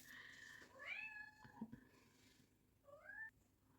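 A cat meows twice, close and clear, a drawn-out rising call followed by a shorter one a couple of seconds later, with faint room noise between.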